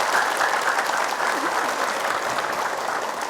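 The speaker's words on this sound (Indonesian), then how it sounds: "Boleh tepuk tangan." Studio audience clapping on an Islamic religious talk show, a full continuous burst of applause that holds steady and eases off only slightly toward the end.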